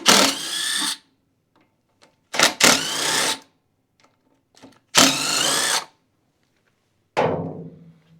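A power tool removes 10mm bolts from the front carburetor assembly of a Craftsman DLT3000 riding mower, sounding close in four separate whirring bursts with silent gaps; the last one winds down.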